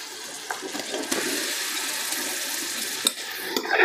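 Marinated mutton and onions are stirred in a cooking pot, producing a continuous hiss of sizzling with occasional scraping knocks of the spoon against the pot, close and steady.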